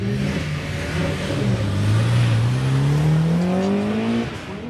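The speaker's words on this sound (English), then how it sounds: "Chanco in the Mazda Miata." A Mazda Miata accelerates hard through an autocross course at Auto Club Speedway, its engine note climbing steadily across several gears with a rising whine before easing off, heard from a distance on an open track.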